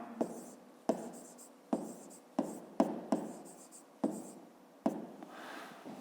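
Handwriting on paper while working a fifth-grade maths exercise: a series of distinct pen strokes and scratches in an uneven rhythm, each beginning with a small tap, close and fairly quiet with no talk.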